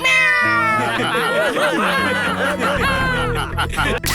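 A cartoon character in the Honey Bunny animated series lets out loud, wavering meows, a voice imitating a cat, with other cartoon voices around it.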